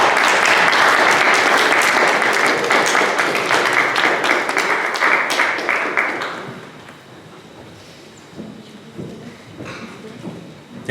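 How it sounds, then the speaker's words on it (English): An audience at a Mahatma Gandhi 150th birth anniversary celebration applauds loudly and steadily, then the clapping thins out to scattered claps and a faint background. "Great applause for all"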